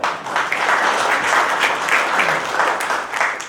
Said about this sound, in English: A round of applause for our CEO.